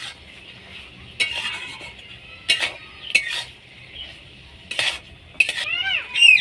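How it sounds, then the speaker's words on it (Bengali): Soybean chunks that were fried earlier get stirred in a pan with cornflour for soya chilli, producing bursts of spoon-on-metal scraping and clatter at irregular intervals over a faint background sizzle, close and fairly quiet. "এবার এটাকে ভালো করে নেড়ে নিতে হবে"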